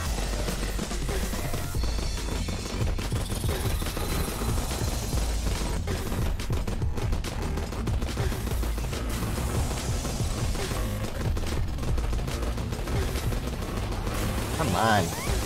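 Bullets fire in the Starward Rogue shooter game as a dense, continuous crackle of rapid shots that runs through the whole stretch over busy game noise.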